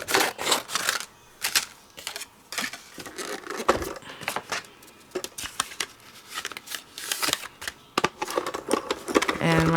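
A Diamond Press die-cutting machine cuts craft paper for an exploding box and gift card holder, giving dense bursts of sharp clicking and rattling that run on with brief pauses.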